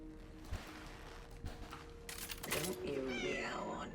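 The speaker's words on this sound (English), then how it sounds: "Don't you meow on me." A cat meows in the horror game Cronos: The New Dawn, a couple of drawn-out cries that rise near the end over faint background music and game ambience.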